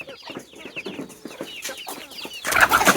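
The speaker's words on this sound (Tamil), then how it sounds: "அதனால ஒரு கோழி ஒன்று பிடிக்கணுங்க" Country chickens inside a chicken shed cluck in quick, close bursts, with the clucking rising to a louder, more excited flurry at the end.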